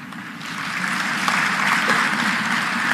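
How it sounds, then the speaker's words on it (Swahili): Applause from an audience at a formal public event attended by the President of Tanzania, a dense steady clapping that swells slightly and holds for the whole stretch. "Makofi yanaruhusiwa kwa sababu hiyo yote ni shukurani tu."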